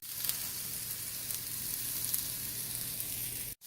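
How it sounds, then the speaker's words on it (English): Onions and jalapenos sizzle steadily in a hot cast iron pan, a continuous close crackling hiss with faint pops that cuts off abruptly near the end. "Now that my cast iron is nice and hot, go ahead and throw in these onions."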